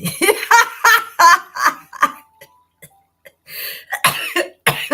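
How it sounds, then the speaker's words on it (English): Several harsh coughs come close together, followed by a brief pause, then more throaty coughing and a raspy clearing of the throat. "I've had this cough for a few days now"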